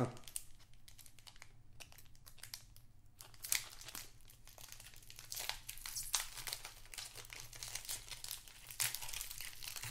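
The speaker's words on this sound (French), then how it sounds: "Que contient ce booster que je galère à ouvrir?" A Pokémon booster pack's foil wrapper crinkles and tears in bursts as someone struggles to open it, with sharp close rips over a quiet background.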